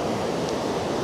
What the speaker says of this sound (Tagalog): Yung tunog ng tubig, yun yung gusto kong naririnig.